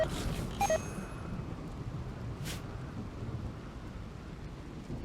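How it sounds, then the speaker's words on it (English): Storm rumble with low rolling thunder and steady rain in RimWorld, a continuous broadband wash with a couple of brief tonal game blips near the start. "Storms are scary, man."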